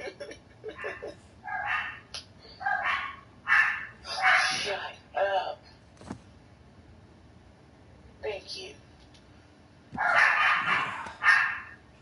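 A dog barks nearby indoors in repeated short bursts and clusters, with quieter yips and whimpers in between and a final loud flurry near the end.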